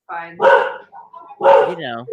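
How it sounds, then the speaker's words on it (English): A dog barks twice, loud and close, each bark a sharp yelp trailing into a short whine, about a second apart in a quiet room. "Dulcet tones of my dog."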